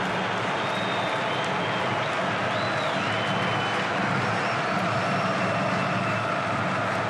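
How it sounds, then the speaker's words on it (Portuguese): Vasco fans at the Maracanã stadium keep up a steady, distant crowd roar during a Carioca championship derby against Botafogo, a continuous wash of noise with faint whistles rising above it. "Faz barulho a torcida do Vasco."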